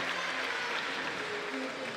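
Large audience at the IFSC lead climbing event in Edinburgh applauding and cheering, a continuous, fairly distant roar of clapping and voices that holds steady throughout.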